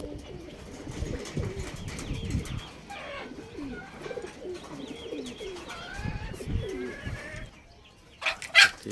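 Pigeons coo repeatedly in low, throaty bursts, several high-flyer racing birds close by, with a brief flutter of sharper sounds near the end.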